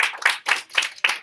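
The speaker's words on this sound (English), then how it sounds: "Give him a round of applause, ladies and gentlemen." Short burst of hand clapping from a sixth-grade classroom audience, a few quick uneven claps fading in and out, fairly close and without talking.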